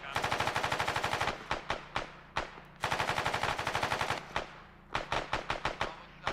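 Rapid gunfire during firearms training, with long strings of fast, evenly paced shots giving way to shorter, uneven bursts, loud and close with brief pauses between strings.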